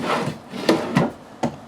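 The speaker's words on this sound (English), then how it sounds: "You have more pull-out drawers here" Pull-out drawers in a 2024 Salem Cruise Lite 261CE travel trailer, three quick wooden rubbing scrapes followed by light knocks, close and fairly loud, with no voices.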